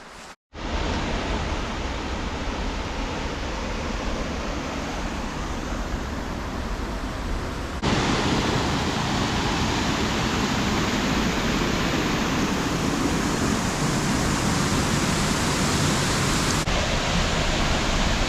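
Tunnel Falls on the Pacific Crest Trail roars as a steady, loud broadband rush of falling water heard up close, continuous and unbroken, with no voices over it.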